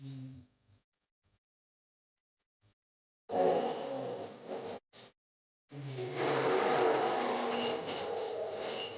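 A car engine from a PlayStation 2 racing game drones in bursts after a near-silent start, broken off briefly and then resuming steadily at moderate loudness.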